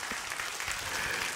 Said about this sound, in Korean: 하나님 앞에 박수로 영광을 돌리십시다